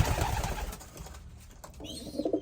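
Young racing pigeons in their loft, soft throaty coos in short bursts, close by and fairly quiet, with no talking.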